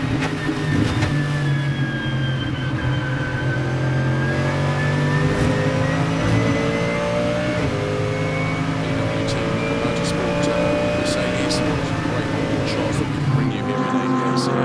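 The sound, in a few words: GT race car onboard at ADAC GT Masters Oschersleben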